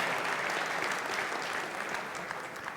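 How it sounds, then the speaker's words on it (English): A conference audience at a JavaScript and Node.js tech talk claps hands in steady, dense applause that fills the room evenly and keeps going for the whole stretch, with no voices over it. "So let's all celebrate by clapping our hands"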